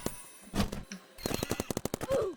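Turret gunfire in the Roblox game Big Paintball, a burst of rapid clipped shots after a couple of earlier isolated pops, moderately loud with game effects around them.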